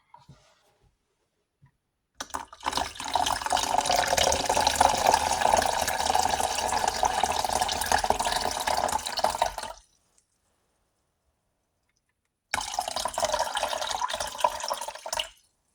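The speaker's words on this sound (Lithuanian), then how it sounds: "Dabar pilsime 600 ml vandens į puodą." Water, 600 ml, poured into a pot while making a fermented drink: a steady, close splashing fill runs for about seven seconds, stops, then a second shorter pour follows after a pause, with no talking.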